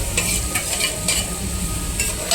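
Green chillies frying in a pan with cumin and asafoetida make a loud, close sizzle with rhythmic scraping stirs, several sharp bursts standing out over the hiss.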